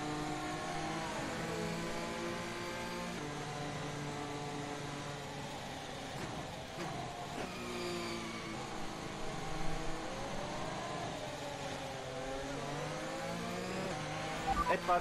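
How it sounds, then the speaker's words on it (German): F1 2021 race car in a video game rolling slowly down the pit lane at Russia, a steady low engine drone with gently shifting pitch and no hard acceleration. "Ich fahre jetzt schön langsam in die Box."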